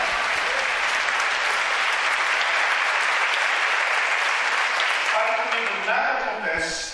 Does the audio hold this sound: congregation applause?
yes